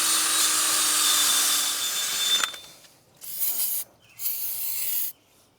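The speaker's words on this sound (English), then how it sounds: "I'm now going to use a wire wheel on this drill to clean up the hub." A wire wheel spun by a drill scrubs the brake hub of a 2007-2018 Jeep Wrangler JK during a rear rotor and pad job, a loud steady whir, then a pause and two shorter bursts.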